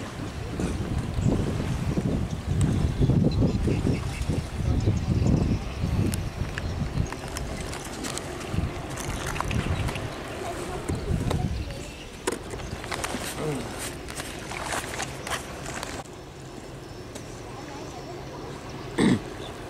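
A small Vietnamese long-tail speedboat's engine and propeller churn water in a steady low rumble, with wind buffeting the microphone and someone talking over it.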